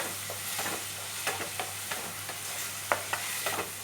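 Pineapple pickle being stirred in a pan, with a steady run of scraping, stirring strokes over a faint sizzle, close and moderately quiet, no talking.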